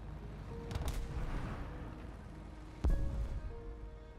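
Explosions from bombs dropped in War Thunder, with two heavy booms near the start and a sharper, louder blast near the three-second mark, over a steady roar of engine and battle noise.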